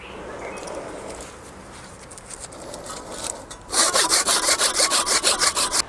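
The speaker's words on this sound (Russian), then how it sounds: "сейчас я буду опять же выпиливать какие-то лишние ветки, чтобы она была все-таки меньше" A hand saw cuts through spring-flowering shrub branches during pruning: quieter rasping at first, then a run of about a dozen loud, rhythmic back-and-forth strokes close by.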